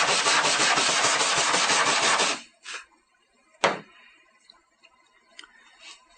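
An electrode of an aluminum dent repair welding system is scrubbed clean with a rapid, dense rubbing rasp for a couple of seconds. A sharp knock and a few faint taps follow in quiet.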